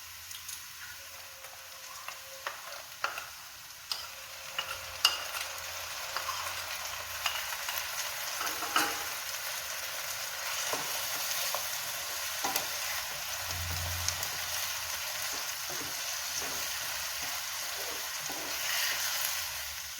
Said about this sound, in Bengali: এবার পেঁয়াজ বাটাটা অ্যাড করব।